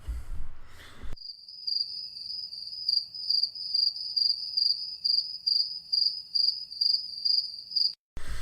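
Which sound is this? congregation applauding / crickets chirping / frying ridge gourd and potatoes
crickets chirping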